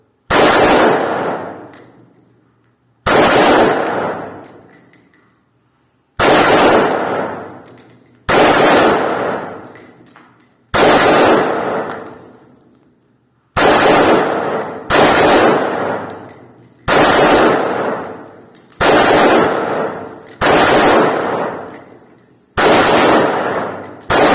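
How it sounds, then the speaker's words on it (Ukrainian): Single loud assault rifle shots fired one at a time, about ten in all, each with a sharp crack and a long echoing decay, spaced a couple of seconds apart. "Автомат ставимо на ведення одинарного вогню. Постріл."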